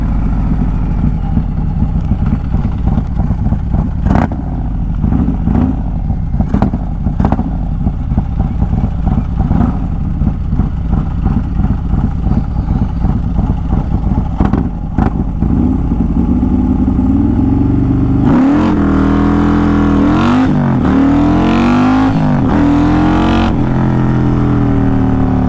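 A built Harley-Davidson CVO motorcycle does a burnout, its engine held at a loud, steady high rev with a rough, pulsing drone. The pitch rises and wavers in the final seconds as the throttle swells.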